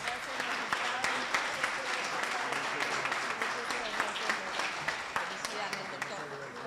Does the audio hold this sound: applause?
yes